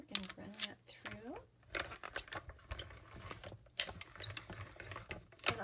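A die-cutting machine cranks a paper sentiment through Stitch So Sweetly dies, giving a close run of ratcheting, clicking mechanical gear sounds with a few sharper knocks, while someone talks over part of it.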